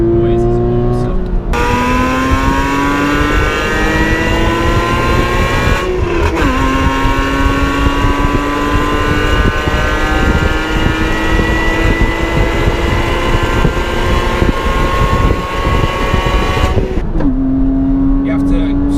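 A Porsche Cayman's mid-engine revs hard and accelerates, its loud, rising howl climbing steadily through the gears toward high rpm with brief dips at each shift, close and continuous throughout.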